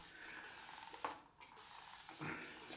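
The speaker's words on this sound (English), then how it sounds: "Put some spray on the head, on the dome." Shaving spray hisses onto a shaved head in two short bursts, close and fairly quiet, with a brief pause between them.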